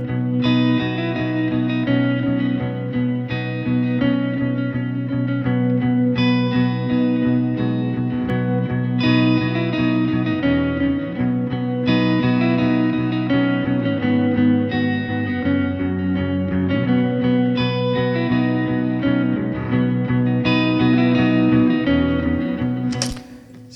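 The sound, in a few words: layered electric guitars playing together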